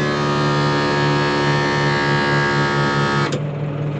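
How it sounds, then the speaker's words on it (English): The driver's seat of a 110 bus sends out a steady mechanical hum with a buzzing, tonal drone that stops abruptly near the end. "My seat, in case you were wondering what on earth that noise was."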